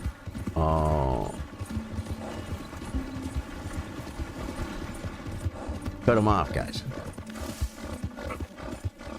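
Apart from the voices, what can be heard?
horse galloping in video game Red Dead Redemption 2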